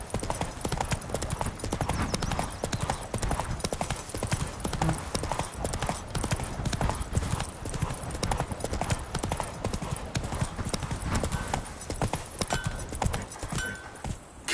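Hooves of Roach, Geralt's horse in The Witcher III: Wild Hunt, drum in a fast, continuous gallop, close and loud throughout with steady rhythmic thudding.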